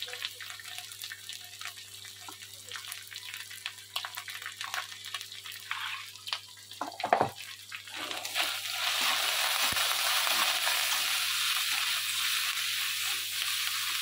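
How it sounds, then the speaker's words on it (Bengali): Ground spices with salt, turmeric, chili powder and roasted spice powder frying in a pan for a chana dal curry: soft crackling and stirring scrapes, then a louder continuous hiss rising partway through. "ভালো করে মশলাটা কষিয়ে নেব।"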